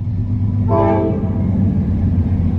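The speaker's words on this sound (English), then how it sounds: "And there comes the train." A train horn sounds once in a short, loud harmonic blast as a train passes a pharmacy drive-thru, over a steady heavy rumble of rail traffic heard from inside a car.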